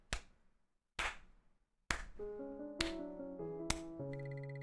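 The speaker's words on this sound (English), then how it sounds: "That was me slow clapping" Five slow, evenly spaced hand claps, close and sharp, each ringing briefly, with a short musical chime and tones rising after the last few.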